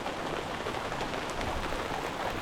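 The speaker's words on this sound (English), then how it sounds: "while it begins to rain harder, I want to show you guys a live look up here. Here comes the rain." Rain falling hard on a house roof and gutter guards outdoors, a dense, even hiss of countless drops spattering close by, steady and loud throughout.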